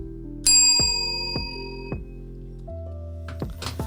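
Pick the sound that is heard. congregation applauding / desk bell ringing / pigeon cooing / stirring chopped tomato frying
desk bell ringing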